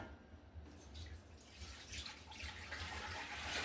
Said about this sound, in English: we need a gallon of milk. We're going to put this into our pan.